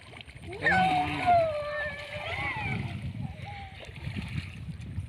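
Children splash and play in cold water outdoors, light sloshing and splatters running under excited voices and chatter, with higher childish calls rising over the water noise.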